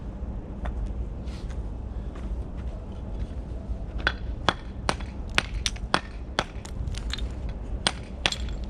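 A hammer and chisel knock at masonry while a fireplace is being built, a run of sharp metallic strikes at irregular intervals, louder and more frequent in the second half, over a low background hum.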